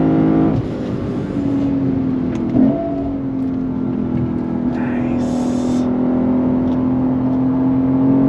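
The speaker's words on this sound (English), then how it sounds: "Listen to that engine." A Lexus IS 500 F Special Edition engine drones and revs steadily from inside the car, its pitch rising and falling, with road noise and brief voices underneath.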